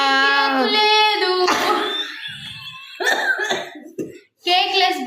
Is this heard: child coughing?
yes